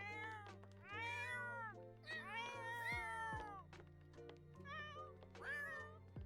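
Several cats in a video game yowl and meow in long, wavering, overlapping cries, loud and close over a low steady musical drone.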